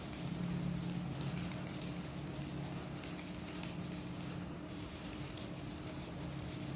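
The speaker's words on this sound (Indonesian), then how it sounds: "Kita gosok kuat teman-teman." Bamboo kite bow being rubbed hard with bamboo sawdust to polish it, giving a steady, close, low scrubbing friction that runs evenly throughout, with no talking.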